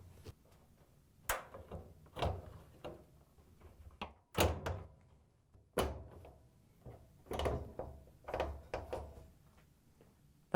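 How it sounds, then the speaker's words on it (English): An LG dryer bulkhead is set into place and its tabs locked into the metal cabinet, giving a series of sharp hollow thunks and clunks at irregular intervals, close and fairly loud against quiet. "we can put the bulkhead in place and lock the tabs into the cabinet"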